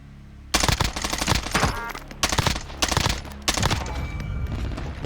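Automatic weapon fire in Call of Duty: Warzone erupts in loud, close bursts of rapid shots, with short pauses between volleys and a quieter lull before the first burst.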